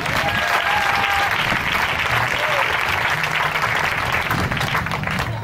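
A church congregation claps and cheers loudly in sustained applause to acclaim the Lord, with voices calling out over the steady clapping.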